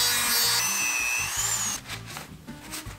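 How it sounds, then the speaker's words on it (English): A grinder whines loudly and steadily as rivet heads are ground down on a motorcycle chain for a Honda CRF300L supermoto build, close up, then cuts off with the motor winding down. "What we're gonna need to do is actually grind the heads down on two of these."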